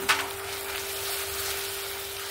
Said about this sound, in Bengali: এটাকে আরও 1 মিনিটের মতন আমি কষিয়ে নেব